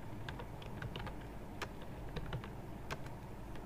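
Code is typed on a computer keyboard in a series of quick, light key clicks in an uneven rhythm, close but fairly quiet over a soft background hum, with no talking.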